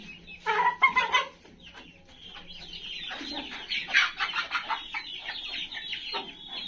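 Colombian Bahama chickens cluck near and loud in a quick opening burst, then keep up a busier, softer run of clucks and squawks with no one talking.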